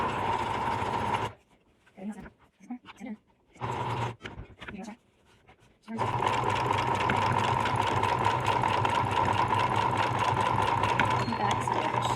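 A sewing machine runs close up while stitching a face mask seam with elastic sandwiched in, a steady mechanical whir in two long runs separated by a stretch of quieter handling noises.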